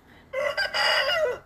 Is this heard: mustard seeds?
no